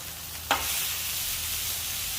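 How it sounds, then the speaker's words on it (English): Burger patties sizzling in butter in a pan just after flipping, a brief clatter then a steady close, loud frying hiss with no talk. "Let's go ahead and flip our burgers one more time."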